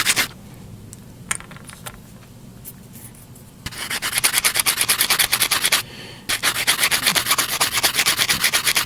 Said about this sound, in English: They make ideal tools for sanding down curved items